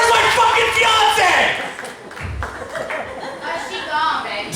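Comedy club audience applauding and laughing, a loud crowd burst at first that fades into scattered clapping and chatter, then swells again near the end.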